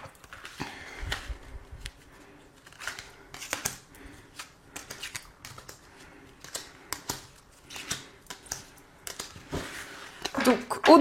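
Tarot cards being shuffled and drawn, a series of crisp riffling and flicking bursts in irregular clusters, heard close alongside someone speaking French.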